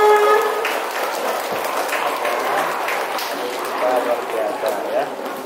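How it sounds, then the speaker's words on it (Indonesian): An audience claps and applauds at a school Independence Day celebration during a trophy presentation, a steady wash of hands that runs the whole stretch, loud and near, with a voice speaking over the start. "tepuk tangan buat Bunda Priamaya untuk kita semua"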